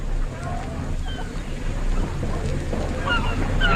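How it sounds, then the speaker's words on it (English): A small dinghy approaching over the sea, its low motor drone steady under wind and surf, fairly close and continuous. "There's a boat coming now, Paul."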